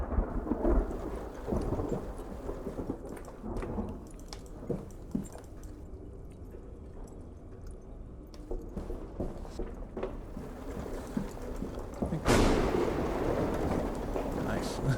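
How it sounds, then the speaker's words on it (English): Low rumbling thunder rolls through a stormy scene in the horror game Amnesia: Blackwater's Blasphemy, with rain and a loud crack-like swell near the end; no talking over it. "Thunder is actually really nice."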